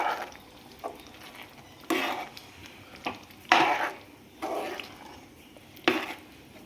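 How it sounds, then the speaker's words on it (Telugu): Spoon stirring chola curry in a pan after kasuri methi and sugar go in, a few soft scraping strokes and clinks at an uneven pace, close and fairly quiet. "కొంచెం కస్తూరి మేతి, కొద్దిగా షుగర్ వేసేసుకొని ఒక్కసారి కలుపుకుందాం."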